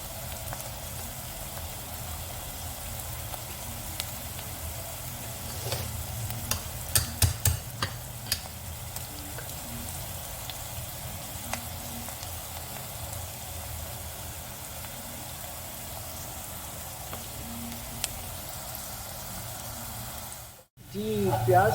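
Onions for smoky baingan bharta fry to golden brown in a pan, with a constant soft sizzle and a cluster of sharp spoon-scraping clicks as they are stirred, ending in a brief pause.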